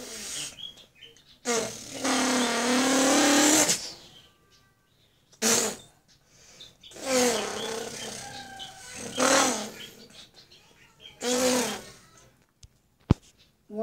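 A young child imitates a Formula One racing car with voice alone, making several drawn-out rising and falling engine whines in separate bursts, each followed by a short pause, close to the listener.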